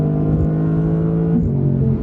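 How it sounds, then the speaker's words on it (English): A naturally aspirated V10 engine in a 2022 Audi R8 hums with a steady, throaty drone that briefly dips and climbs again in pitch, loud and close. "The V10 is tremendously powerful."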